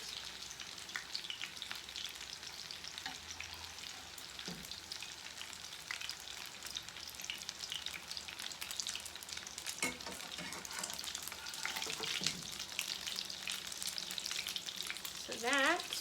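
Sweet potato latkes fry in a pan of hot oil, giving a soft, continuous sizzle with faint crackles and an occasional clatter of a utensil, fairly quiet and with no voices.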